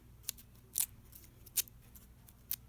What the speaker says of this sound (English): take the back side of my scissors and just curl them